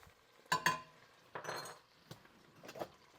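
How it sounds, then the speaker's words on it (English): A spoon stirring cherry jello powder into melted butter in a pot gives a few quiet metallic clinks and scrapes in short irregular bursts, with no voices. "And we're going to stir that in."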